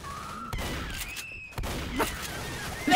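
A few separate gunshots crack in Left 4 Dead, two or three sharp, fairly close reports spaced apart with quieter game sound between them.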